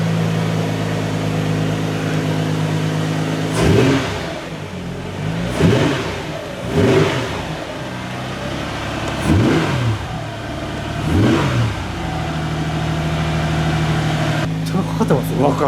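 An idling Nissan GT-R R35 V6 engine fitted in a Toyota Hiace van rumbles steadily while being revved several times in short bursts, each rising and falling in pitch, with a low cabin hum throughout.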